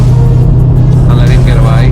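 A VW MK7.5 Golf R with 306 hp pulls hard uphill, its engine a loud, steady low drone heard close from inside the cabin, with a rising note toward the end.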